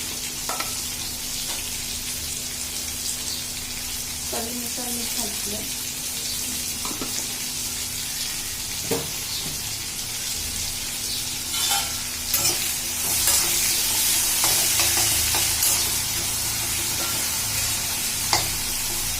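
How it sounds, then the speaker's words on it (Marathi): Potatoes for vegetable pulao are sautéed and stirred in oil, a continuous close sizzle broken by scraping and clinking from the spoon, with no one speaking. "बटाट्यांना थोडा गोल्डन ब्राऊन कलर यायला पाहिजे असं परतून घ्यायचं"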